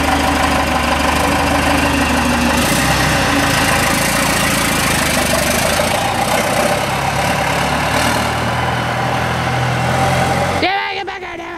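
A Ford F-150 engine runs loud and steady while being revved, with a heavy rumble throughout and voices over it, before cutting off abruptly near the end.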